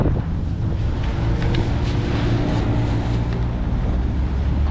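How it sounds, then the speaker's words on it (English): Strong wind whipping up outdoors, roaring and buffeting the microphone with a dense, loud rumble that keeps going for the whole stretch, with no voices. "What isn't easy is this wind, which is really whipping up."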